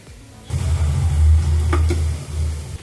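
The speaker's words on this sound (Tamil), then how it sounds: "வெங்காயம் சிம்மிலேயே வதங்கட்டும் ஃப்ரெண்ட்ஸ்" Chopped onions sautéing on low heat in a pan for a chicken liver gravy: a steady close sizzle begins abruptly, with a couple of sharp scraping stir strokes partway through.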